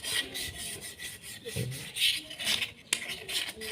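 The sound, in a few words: sanding with 1000 grit sandpaper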